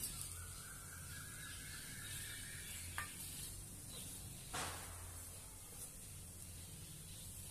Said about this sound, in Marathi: खरपूस असा दोन्ही बाजूने भाजून घेऊया